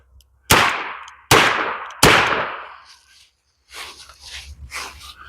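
Three loud, sharp gunshots from a Ruger LCP .380 pistol fired close to the body at a range, evenly spaced about a second apart, each ringing off. Faint voices and movement follow.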